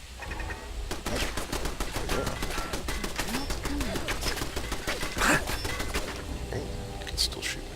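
Gunfire in Fallout 4: rapid, repeated shots crackle in dense bursts, close and loud, with a brief voice now and then over the shooting.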